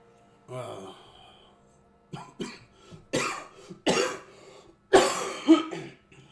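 A person close to the microphone lets out a series of about six harsh, chesty coughs in uneven bursts, preceded by a brief vocal sound.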